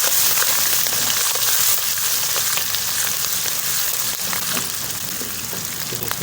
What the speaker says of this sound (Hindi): प्याज हमारा हो गया, जिसमें अदरक का पेस्ट ऐड करेंगे। 1 मिनट के लिए इसे भूनेंगे।